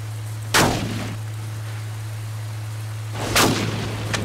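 Two booming shotgun blasts from a hunting video game, Cabela's Big Game Hunter, spaced about three seconds apart, each a sharp crack with a short rumbling tail over a steady low hum.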